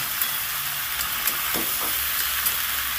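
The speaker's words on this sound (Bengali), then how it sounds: "এবার ভালো করে নেড়ে চেড়ে ভেজে নেব" Ivy gourd and potato with salt and turmeric fry over low heat in a pan, giving a constant close hiss and sizzle with a couple of brief stirring scrapes, without speech.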